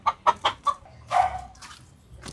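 Chickens cluck close by in a quick series of short clucks, followed by a longer squawk and softer clucking.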